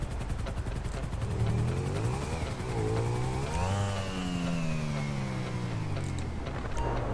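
A motorbike engine in GTA V revs near and loud, its tone sliding up and down in smooth sweeps as the throttle changes, running steadily for several seconds with no talking over it.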